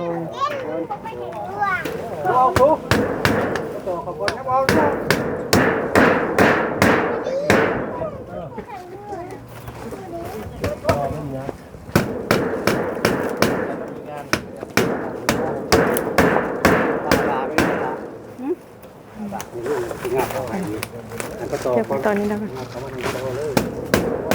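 Pounding hammer blows at a construction job, heard as a fast run of sharp, loud thuds in bursts through most of the stretch, with people and children talking over and between the strikes.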